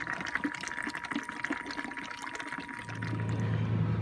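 Antifreeze is pumped through a hose to prime a winterizing system, heard as a gurgling liquid rush that swells into a steadier, louder flow with a low pump hum near the end.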